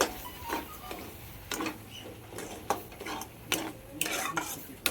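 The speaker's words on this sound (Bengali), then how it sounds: "চিনিটা দিয়ে দেবো, ভালোভাবে নেড়ে দেবো।" Sugar being stirred into a thickened raw mango mixture in a pan, with repeated scraping strokes of a spoon and soft sizzling in between, close and with no talk.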